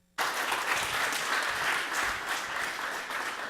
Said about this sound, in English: Hand claps for Ben Wilson.